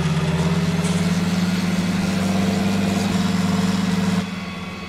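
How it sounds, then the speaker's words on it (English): Tractor engine in the Farming Simulator 19 video game idles with a steady, deep mechanical drone, alone and continuous, then drops slightly in level near the end. "I just love the sound of the tractor."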